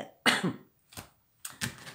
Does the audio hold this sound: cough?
yes